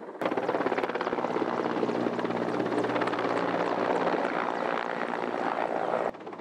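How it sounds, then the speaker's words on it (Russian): A firefighting helicopter flies close and loud over a mountain wildfire, its rotor pounding in a steady, dense roar that holds for several seconds before cutting off abruptly. "Вертолет КАЗ «Авиаспаса» заливает очаг возгорания с помощью бортового ВСУ."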